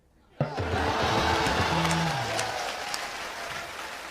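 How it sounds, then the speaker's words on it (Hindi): A television comedy show audience bursts into applause with some cheering, starting abruptly and loud, then a dense clapping roar that slowly fades, with a voice speaking over it early on. "ठोको ताली"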